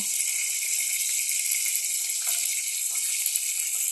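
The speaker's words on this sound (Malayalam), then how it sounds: "എണ്ണ നല്ലതായിട്ട് തിളച്ച് വരുന്നുണ്ട്" Hot oil sizzles and bubbles steadily in a pan, a dense, constant hiss with faint crackles throughout and no voices.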